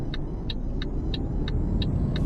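A car driving in the truck-driving game Euro Truck Simulator 2 gives a steady road and engine drone, with a crisp tick repeating about three times a second throughout and no talk.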